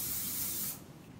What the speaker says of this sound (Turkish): stencil spreyi sıkıyorum.